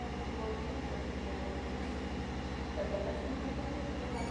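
Argo Bromo Anggrek passenger train pulling into Semarang Tawang station, a steady, close rumble of wheels and carriage with constant low drone and faint rattles, no voices over it.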